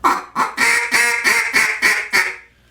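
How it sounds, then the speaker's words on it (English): A duck call blown hard into a closed hand gives a rapid series of about seven raspy, honking quacks, loud and close, evenly spaced before stopping abruptly. "So if you take it and blow a hard grunt into your hand,"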